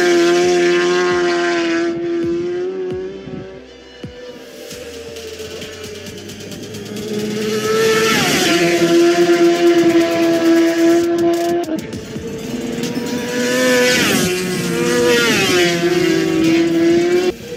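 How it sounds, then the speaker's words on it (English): Racing motorcycles scream past at top speed on a road-race circuit, loud sustained engine whines rising and falling in pitch as several bikes sweep by in quick succession, no talking. "Here are the riders racing at a tremendous speed of 300 kilometers per hour. Passing at a blink of an eye and they are gone."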